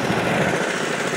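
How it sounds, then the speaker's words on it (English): Gold dredge engine running close by, a loud steady mechanical drone with no speech over it. "And here's Mike dredging"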